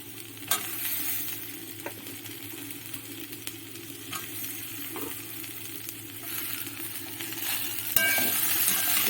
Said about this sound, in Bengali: সব দিয়ে একসাথে ভাজা ভাজা করব।